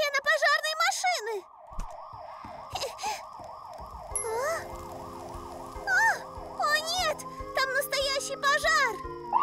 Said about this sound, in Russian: О, это сирена пожарной машины.